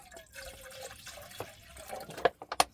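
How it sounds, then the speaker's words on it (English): Water being poured into a kettle-like container with a max line, heard as soft trickling and dripping that grows into a few sharper splashy bursts toward the end, close by with no talk. "you must put the water in first"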